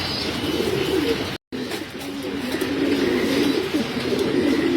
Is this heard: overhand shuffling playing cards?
no